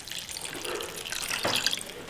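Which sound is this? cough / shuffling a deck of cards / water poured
water poured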